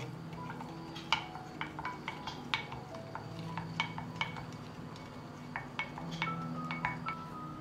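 A spoon clinks repeatedly against a jug in irregular taps while stirring a whey and water drink, close and fairly quiet, over a soft background hum.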